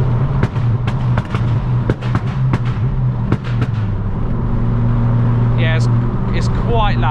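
A modified Ford Fiesta MK6 Zetec S with a Hornet straight pipe exhaust idles with a loud drone while sharp misfire pops crack out in an irregular burst, followed by a revving flutter near the end.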